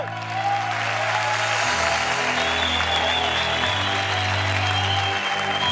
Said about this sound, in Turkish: Ve Hüseyin için koskocaman alkış